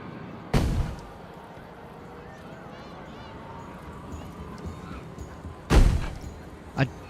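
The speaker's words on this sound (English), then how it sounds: "I do think I'm gonna make this cannon fire a little bit less often" Ship cannon in the game Planet Coaster 2 fires two loud booming shots, one near the start and one near the end, plus a smaller thump after, with quiet talk in between.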